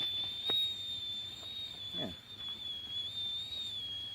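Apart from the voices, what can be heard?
pot whistling as water boils for spruce needle tea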